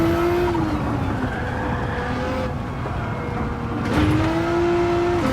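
Nissan GT-R race car engine in Gran Turismo 7, a steady sustained drone with a slight pitch shift as it holds speed, dipping briefly before climbing again, loud and continuous with no talk.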